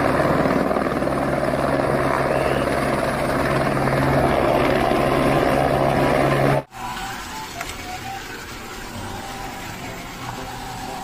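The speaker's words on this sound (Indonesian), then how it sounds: "Ada helikopter." Toy helicopter whirring with a steady buzzing motor and rotor drone, loud and continuous, then abruptly cut off and replaced by a quieter, different mechanical hum.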